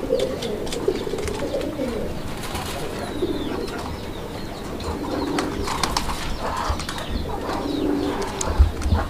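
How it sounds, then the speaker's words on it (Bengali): Raj Golla pigeons cooing in a loft, soft low coos repeating throughout with occasional wing flaps and rustling, close to the microphone. "ছেড়ে দেন তাহলে একটু ডাকতে পারে।"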